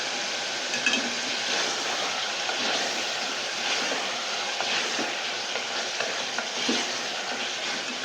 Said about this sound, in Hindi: गोश्त को पहले थोड़ा सा अच्छे से तेल में भूनती हूँ दोस्तों